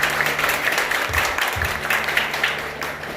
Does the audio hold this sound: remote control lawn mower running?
no